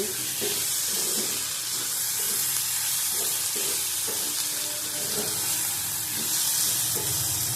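Steady, close sizzling of food frying in a pan, with a broad hiss and occasional soft scraping, no voices.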